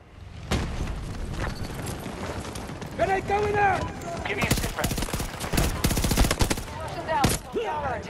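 Battlefield 2042 gunfire: sharp bursts of rapid shots crack out in clusters, loud and close, mixed with in-game effects and chatter, with a voice talking over parts of it.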